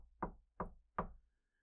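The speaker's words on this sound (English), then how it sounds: "There's a knock at her door." Three evenly spaced knocks on a door, faint and fairly close, each a short dull thud, with silence after.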